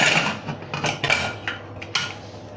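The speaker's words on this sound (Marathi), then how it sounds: "कुकरचं झाकण आपण लावून घेऊया." A metal pressure cooker lid is set on and twisted closed, a handful of short clanks and scrapes close by, with no talking.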